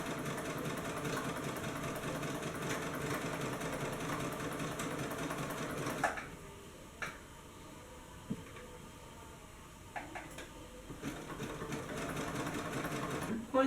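A sewing machine stitches fabric from a shirt being turned into leggings, running in a steady, continuous whir for about six seconds before stopping, followed by quieter handling sounds and a few short clicks.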